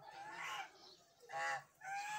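Ducks crossing give three faint bursts of honking quacks, separated by short pauses, somewhat distant and unaccompanied by talk.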